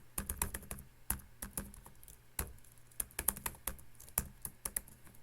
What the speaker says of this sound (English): So to do that, you would type this.